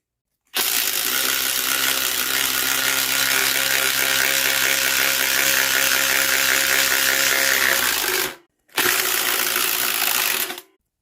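A Makita cordless power tool runs at a loud, steady whine for about eight seconds, stops briefly, then spins up again for two more seconds.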